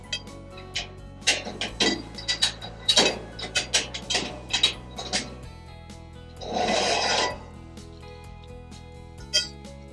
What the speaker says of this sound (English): quite simply done by pushing the bar through, and then you can force it forward to keep the animal tight up to the yoke